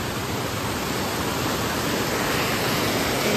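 A swollen stream running high like a river after rain, giving a dense, continuous roar of rushing water that stays loud and even from start to finish, with no voices.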